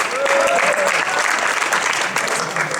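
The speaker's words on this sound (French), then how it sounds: "On les applaudit même si elles sont plus là." Steady, dense applause from an audience at an amateur gaming tournament prize ceremony, loud and continuous throughout with a brief tonal whistle early on.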